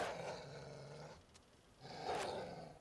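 A dog growls in the video game Divinity Original Sin 2, with two low rumbling snarls separated by a short gap, moderately close and clear.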